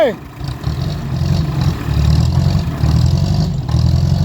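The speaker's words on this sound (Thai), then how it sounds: "ดับแล้ว รถไถดับแล้ว" A small KS 115 farm tractor engine runs loudly throughout with a steady low rumble and revving, while people shout over it; no clear stall is evident.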